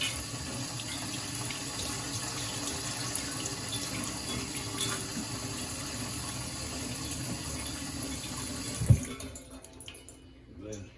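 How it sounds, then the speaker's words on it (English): Steady broadband rush of water running from a tap as hands are rinsed under it, continuous and close for about nine seconds, then a clunk as the flow is shut off and the sound fades to a quiet tail. "So let me rinse my hands off for a minute."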